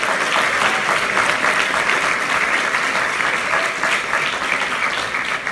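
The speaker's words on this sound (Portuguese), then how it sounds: "será que alguém pode aplaudir o nome do Senhor?" A church congregation at an evening service claps loudly and steadily, a thick continuous wash of applause that holds from start to finish.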